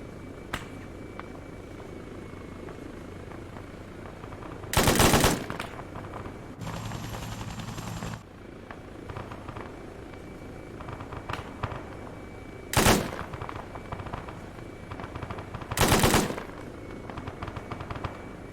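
Gunfire exchange in a military simulation game: a steady engine drone runs throughout, broken by several loud bursts of shooting that come in short, separated volleys.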